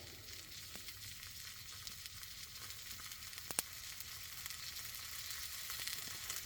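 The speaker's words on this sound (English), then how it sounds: "Just let you guys enjoy the sounds of sizzling meat and campfire." Meat sizzling over a campfire outdoors, a steady quiet crackling hiss with faint occasional pops, no voices.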